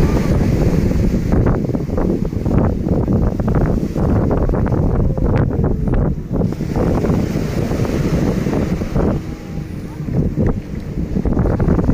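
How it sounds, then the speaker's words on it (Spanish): Ocean surf rolls continuously on the beach at Playa del Morro, loud and close, with heavy wind buffeting the microphone throughout. "Hoy están calmaditas las olas, el oleaje."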